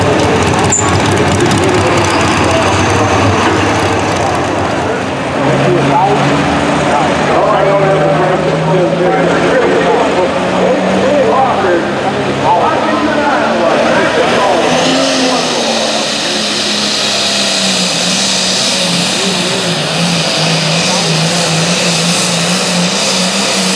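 A pulling truck's engine roars loudly at a truck pulling competition in Dubuque, Iowa, a sustained heavy drone rising and shifting in pitch across the whole stretch, with voices faintly mixed in.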